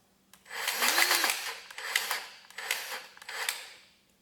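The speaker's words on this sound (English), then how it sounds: "Clip this baby on. Okay, now we're gonna give her a couple shots." RIDGID 18V lithium cordless grease gun pumping grease into a fitting, four whirring motor bursts of about a second each with short pauses between, close and fairly quiet.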